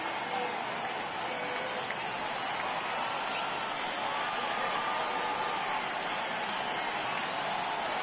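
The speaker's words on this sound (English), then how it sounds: "Crowd gets up for the 3-2." A baseball stadium crowd in MLB The Show 18 roars as a constant distant wash of cheering and murmur, with faint whistles rising within it and no clear pause.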